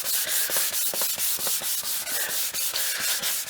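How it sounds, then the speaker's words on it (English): Sandpaper is rubbed by hand over a Les Paul style guitar body to strip off varnish, producing rhythmic, harsh back-and-forth scratching strokes at a steady fast pace, close and loud, with no talk. "we can carry on with the sanding down, getting a nice area to finish off with"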